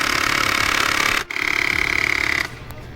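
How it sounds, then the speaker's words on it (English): An air compressor on a student-built fluid power vehicle hums steadily at close range, pulsing rhythmically, then briefly cuts out and restarts with a stronger tonal whine before dropping to a lower hum. "So if we click here, we should get an air compressor turn on."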